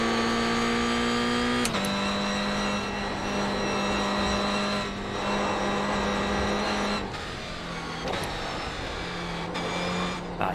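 Toyota GR86 racing car in iRacing at Rudskogen, its engine droning steadily at high revs, with sharp blips and pitch drops as it downshifts several times; loud, close in-car sound.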